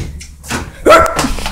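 A person imitates a dog barking with a couple of short, loud, yappy vocal barks, close to the microphone, set outdoors near woods.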